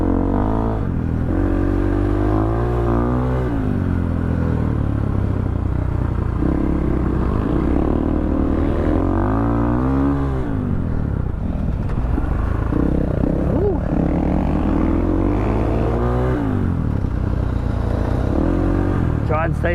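A Yamaha Tenere motorcycle engine roars loudly and continuously while riding on an open road, revving up and down in rising and falling sweeps, close and steady throughout.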